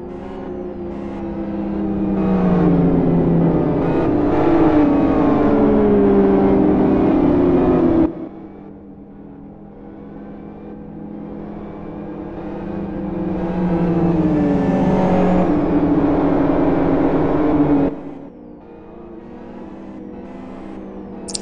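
GT1 race cars roar past in a racing video game, two loud engine passes each swelling and rising in pitch before cutting away, with a lower steady engine drone between them and no talking.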